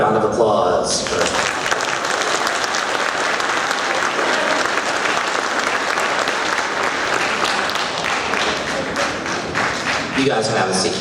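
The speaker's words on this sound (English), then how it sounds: "And a round of applause for" Steady applause from a school audience honoring seventh-grade award recipients, dense clapping running nearly the whole time at even loudness with brief talk at the start and end.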